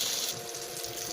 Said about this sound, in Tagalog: Lagyan natin konting tubig yan.